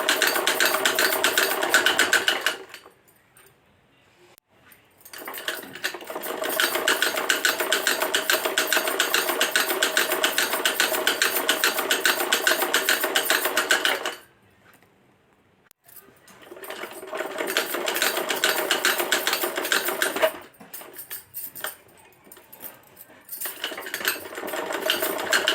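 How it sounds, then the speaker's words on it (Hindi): A sewing machine runs in long steady bursts of rapid stitching along a folded underwear waistband, stopping twice for brief pauses before starting again, loud and close with no talk. "अब हमें इसी तरह से फोल्ड करते हुए नेफे पर सिलाई लगाते जाना है।"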